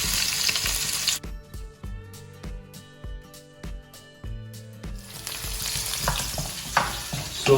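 Onions frying with garlic in a pan for a white-sauce pasta, with bursts of loud sizzling and scraping at the start and end and a quieter stretch of rhythmic stirring knocks in between.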